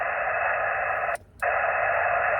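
Steady, loud static hiss from a ham radio receiver tuned to a clear 28.442 MHz frequency, cut off briefly once before resuming.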